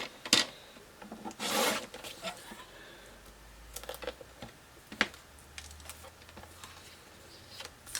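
Paper being trimmed for a scrapbook page makes soft scraping and rubbing sounds with a few brief louder rasps, close and quiet.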